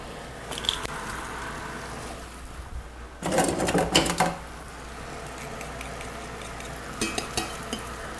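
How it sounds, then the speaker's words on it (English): Mushrooms cooking in a pan for chicken marsala, a faint low sizzle broken by a couple of louder bursts of stirring and crackling scrape, quiet in between. "while them mushrooms cook"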